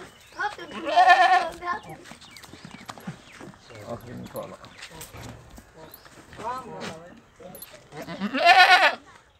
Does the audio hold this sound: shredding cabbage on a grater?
no